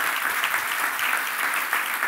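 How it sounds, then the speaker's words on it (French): Sustained, dense applause from a lecture-hall audience thanking two mathematicians after a talk on the brain and computers, steady and full throughout. "Vous pouvez les applaudir"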